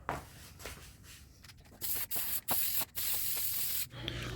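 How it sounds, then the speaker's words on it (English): Hercules bed liner spray hisses from an aerosol can onto a metal ladder's sanded surface, in several close bursts of a second or so, the longest near the end, between quiet gaps with faint rubbing. "Now I'm using a Hercules bed liner spray."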